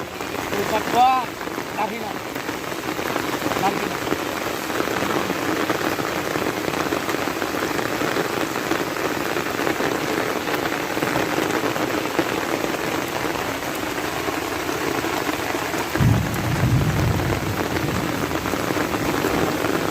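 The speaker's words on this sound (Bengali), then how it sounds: "মারাত্মক বৃষ্টি নেমে উঠছে চারদিকে প্রচুর বৃষ্টি হচ্ছে প্রচুর" Heavy rain pours down steadily over a village during fishing, a loud, dense patter on surfaces lasting the whole stretch with occasional low rumbles beneath.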